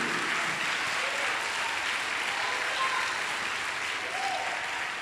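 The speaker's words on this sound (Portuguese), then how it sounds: "Se for para o Senhor, aplauda mais alto." A church congregation applauds, producing steady, dense clapping that fills the whole stretch at an even, loud level without pause.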